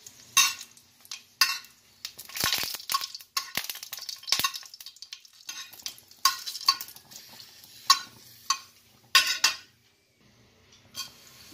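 Whole spices, a bay leaf and dry red chillies fry in white oil in a pan, heard as bursts of metallic stirring and clattering over a faint sizzle, broken by short quiet gaps.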